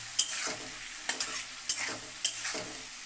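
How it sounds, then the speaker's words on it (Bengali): Spice paste for a cabbage curry with egg and fish is stirred in a hot pan, four rhythmic spatula scrapes over a faint, steady sizzle. "মশলাটা কষানো হবে তারপরে এই উপরে বাঁধাকপিটা দিয়ে দেবো"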